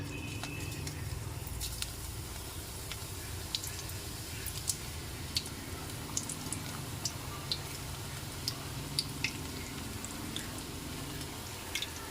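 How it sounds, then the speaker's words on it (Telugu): Spinach pakoda frying in a hot pan, a steady low bubbling hiss with scattered small crackles and pops throughout, fairly quiet and close. "కళాయి వేడెక్కిన తర్వాత ఈ పకోడీని వేసేద్దాం."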